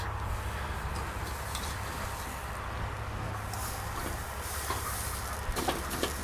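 A tri-tip steak sears on an SNS Travel Kettle grill, giving a steady close hiss and sizzle with a low background rumble, faint pops and crackles, and no talking.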